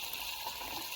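A steady rush of water poured into a cooking pot of pasta, smooth and continuous for a brief moment, with no voices.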